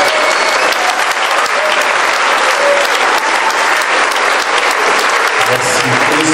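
A church congregation at a thanksgiving service applauds, a loud, steady wash of clapping from many hands that holds at full strength throughout, with faint voices blended into the crowd noise.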